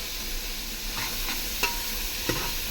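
Garlic being sautéed and stirred in a frying pan, with a steady low sizzle and a few sharp scrapes of the spoon against the pan.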